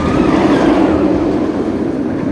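A roller coaster at Thorpe Park runs along its track with a loud, steady roaring rumble that holds without a break for the whole stretch.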